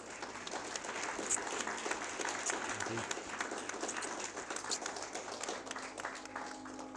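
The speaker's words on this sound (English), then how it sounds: "Very big round of applause." Wedding guests applaud the newlyweds just after the kiss, a continuous crowd of clapping hands at moderate volume that holds steady, with music beginning to enter at the close.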